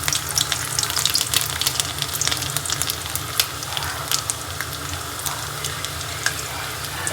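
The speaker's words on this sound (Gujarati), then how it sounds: "લસણ ઓકે, થોડું બ્રાઉન થઈ જાય." Garlic frying in oil in a home kitchen until it turns brown, a steady dense crackling sizzle with small pops running throughout, fairly close, with no talking.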